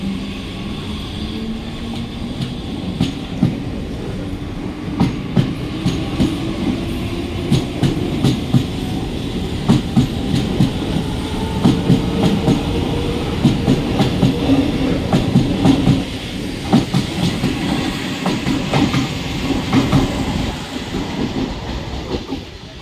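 A Mumbai local train pulls in at the Vikhroli station platform, loud and close, with a continuous rumble, rhythmic clickety-clack of wheels over rail joints and a faint rising squeal as the carriages roll past for over twenty seconds.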